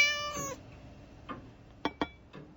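A pet cat gives a clear, tonal meow up close, followed by a few soft, short chirping mews spaced apart in a quiet room.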